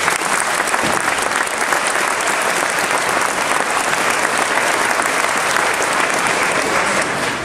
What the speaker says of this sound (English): so everybody give Amir a round of applause.